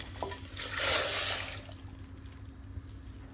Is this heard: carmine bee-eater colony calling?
no